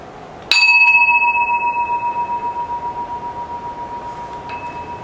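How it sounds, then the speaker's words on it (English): A single bell strike to open evening worship, a bright ringing tone that sustains and slowly decays with a gentle pulsing shimmer, then a faint second touch near the end, in a quiet setting with no talk. "a bit of silence with our bell to begin our reflections this evening."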